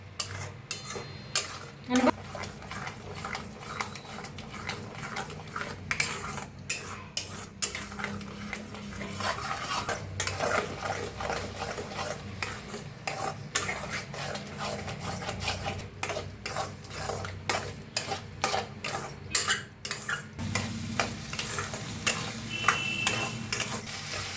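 Utensil stirring egg bhurji, eggs being mixed into onion-tomato masala in a pan, with continuous scraping, clinking and tapping against the metal at close range, no voices.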